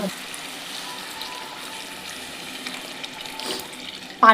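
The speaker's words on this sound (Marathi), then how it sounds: "पाणी" Water streams steadily into a pan of spiced whole masoor lentils for several seconds, a soft continuous splashing that ends in a brief louder clatter.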